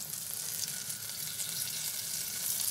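Whitebait fritter bound with egg, salt and pepper frying in butter in a pan, a steady close sizzle and crackle running throughout with no talking.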